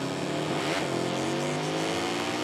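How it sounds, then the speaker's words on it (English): In the MotoGP 20 video game, a motorcycle engine revs on the starting grid, a steady high-pitched whine with a quick rise and fall in pitch, heard alone at moderate level. "So you're revving it up, making sure everything's where it needs to be to get underway."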